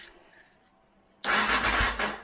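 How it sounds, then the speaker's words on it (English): A 2001 Suzuki DRZ400S motorcycle engine turning over: a quiet hum gives way to a sudden loud, rough churning that continues steadily to the end. "it's going to turn over without the clutch in"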